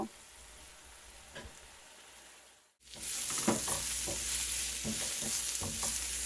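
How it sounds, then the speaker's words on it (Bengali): Steady sizzling of mushrooms frying in a pan, with a short gap before it grows louder, plus scattered clinks and scrapes of stirring. "মাশরুম থেকে যে পানি বের হবে সেই পানি শুকানোর আগ পর্যন্ত ফ্রাই করব।"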